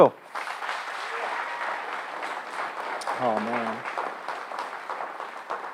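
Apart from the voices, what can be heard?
audience applause for the graduating class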